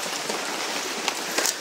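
Rain falling outdoors, a soft continuous patter at moderate level, with a couple of brief louder splashes or rustles near the end and no speech.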